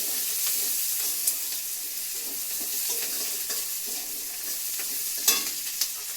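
Onion, garlic and chili frying in a wok give a soft, continuous sizzle with occasional utensil taps and light scrapes, fairly quiet and close, with no voices.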